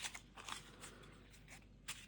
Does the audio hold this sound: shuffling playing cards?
yes